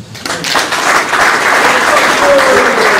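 An audience bursts into applause at a political gathering in the DR Congo, rising quickly after a brief quiet moment into dense, loud, continuous clapping that holds steady to the end.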